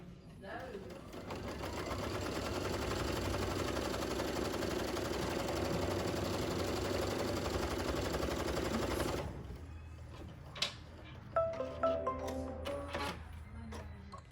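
An embroidery machine runs a placement stitch with a fast, even mechanical whirring for about nine seconds, then stops, followed by a few clicks and handling sounds.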